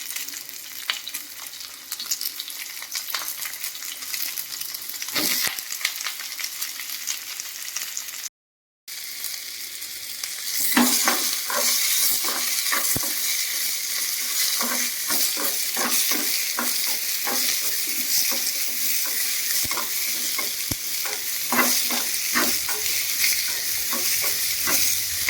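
Village-style masala for mutton sambar fries in a pan with a continuous sizzle, while a spoon stirs and scrapes in frequent clicking strokes, broken by a brief silent gap, with no talking.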